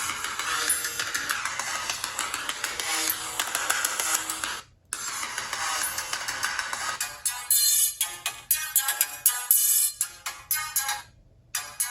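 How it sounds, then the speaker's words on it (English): Ringtone played at maximum volume through the speaker of a prototype Motorola RAZR V XT889 phone, a loud, bright electronic melody with a brief gap around the middle, then choppy, pulsing notes toward the end. "So let's go to ringtones"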